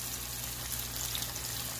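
Capsicum frying in oil in a pan while cooking an omelette, a steady soft sizzle with fine crackle running throughout, close by, with no voices.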